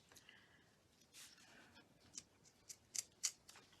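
Scissors snip through Stampin' Up! designer series paper in a quiet crafting space, a soft rustle first and then several crisp, close cuts that get sharper toward the end.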